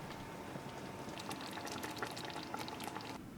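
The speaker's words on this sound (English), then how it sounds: "add your patties back in and then simmer" Beef patties simmer in onion gravy in a pan, a soft continuous bubbling and popping with scattered small crackles, faint and close, with no voices.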